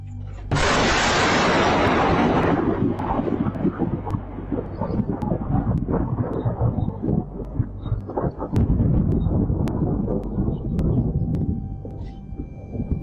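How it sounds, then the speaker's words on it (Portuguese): A heavy thunderstorm rolls in over a farm in India, a sharp crash of thunder breaking into a long, loud, rumbling roll that slowly fades and lingers under steady noise. "parecia mesmo que um temporal estava para chegar"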